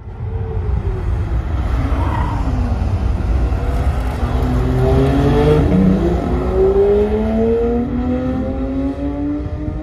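A 2023 Porsche 911 GT3 sports car is driven hard on a track at a Porsche driving centre. Its engine roars loudly and close, revving up through climbing pitches steadily across the clip.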